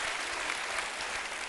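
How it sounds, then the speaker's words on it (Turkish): Studio audience applauding on a Turkish television talk show, a dense steady wash of clapping that holds at an even level throughout, with no voices over it. "Teyzeme de bir alkış"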